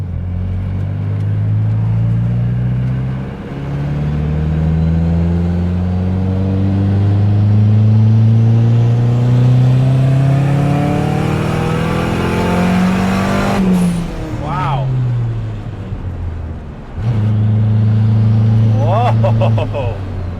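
A Honda K24-swapped Mazda RX-7 FD accelerating hard on a mountain road, the four-cylinder engine heard from inside the car climbing through gears with rising revs, brief dips at shifts, and loud sustained pulls.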